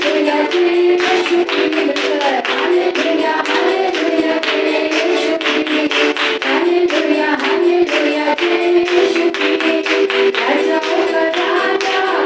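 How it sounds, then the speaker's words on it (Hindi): A worshipping congregation claps in a steady rhythm during a Sunday service in New Delhi, close sharp hand claps running continuously over a bed of music with sustained tones. "खुश है तो ताली बजाएं"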